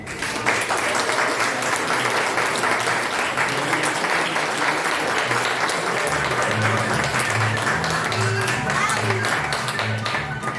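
Steady audience applause for the actors of an amateur theatre company's comedy, dense and continuous for about ten seconds with a low murmur of voices underneath.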